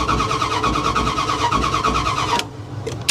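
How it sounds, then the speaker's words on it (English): A 2020 Mercedes G63 AMG with no fuel in the tank cranks over without starting: a loud, rapid, even whirring of the starter lasts over two seconds, stops abruptly, then brief clicks and knocks follow. "We did get it to crank over though."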